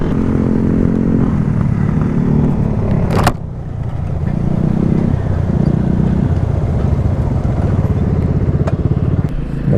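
Raider 150 and Sniper 150 motorcycles ridden on a road test, a loud continuous engine drone with shifting pitch, a brief sharp clatter near the third second, then steady riding noise.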